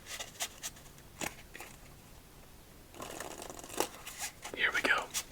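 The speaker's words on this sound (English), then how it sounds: "let's give this deck 2 more shuffles" A deck of playing cards being shuffled for a game of solitaire, with soft crisp riffling bursts at close range, quiet and intermittent, ending in a louder flurry of card flutter.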